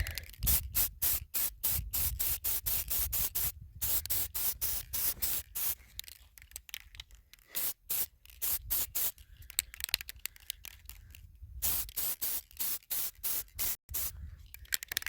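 Spray paint hisses in repeated short bursts onto PVC irrigation pipes and fittings outdoors, close and crisp, with brief pauses between sprays and a few longer gaps.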